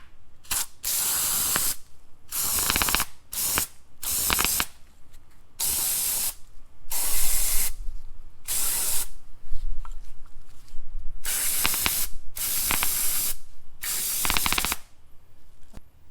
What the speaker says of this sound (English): I got parts cleaner and degreaser. Just go ahead and give it some sprays.